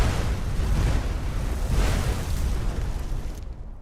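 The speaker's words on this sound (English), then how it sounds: "Let's get just some bullshit explosions going." Fireball explosions from the video game Skyrim form a dense, continuous roar of overlapping booms that stays loud through the clip, with no voices, then cuts off abruptly near the end.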